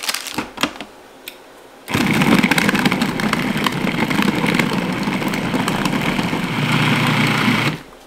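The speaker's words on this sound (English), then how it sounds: "You should also start to kind of hear it even out in the food processor" A food processor whirs steadily as it cuts butter chunks into flour for a sandy dough, a loud continuous motor drone following a few seconds of quieter clatter and taps at the start.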